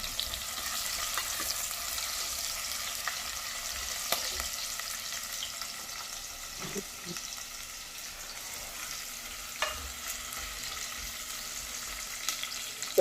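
Onion fries in a pan with a continuous soft sizzle and hiss, with occasional stirring clicks and scrapes over a steady cooking texture.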